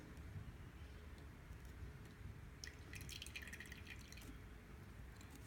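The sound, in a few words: liquid dripping from a burette into a beaker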